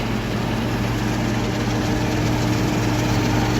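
A pea harvesting machine's engine drones loud and steady, with a heavy low hum and a constant rumble running without a break.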